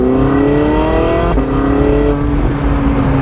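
A Corvette Z06 accelerates on a Tennessee mountain road, the loud engine rising in pitch, dropping sharply at a gear change, then climbing again, close and continuous with no talk.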